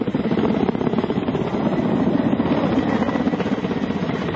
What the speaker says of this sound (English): Ship-based in groups and as a single unit, these helicopters are still in service.